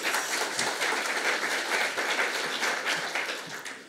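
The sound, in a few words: audience applause for presenter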